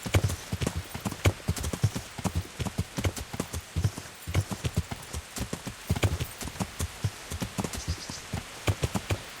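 Horse hooves clip-clop in a steady, rhythmic gait in the video game Kingdom Come: Deliverance, close and clear, continuing throughout with a faint patter of rain behind.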